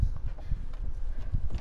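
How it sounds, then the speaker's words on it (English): Horse hooves clip-clopping at a walking pace in the video game Red Dead Redemption 2, a steady run of soft, low thuds that repeats for the whole short stretch, close and fairly quiet. "A horse over here."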